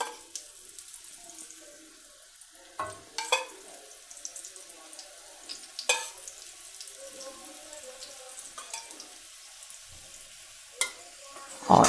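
Layered lachha paratha cooks with ghee on a tawa, a soft steady sizzle underneath scattered clinks and scrapes from handling the flatbread, fairly quiet and close.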